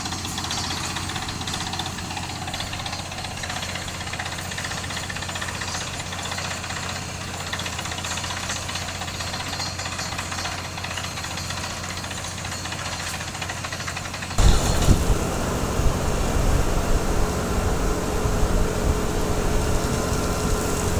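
A water well drilling rig's heavy engine runs steadily with a knocking, pounding rhythm, then grows louder and rougher partway through.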